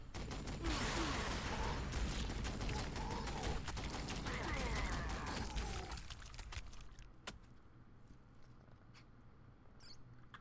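Dense, rapid weapon fire in Warhammer 40,000: Sanctus Reach rattles on continuously for about six seconds and then gives way to quieter scattered battlefield noise, with a few sharp isolated cracks near the end.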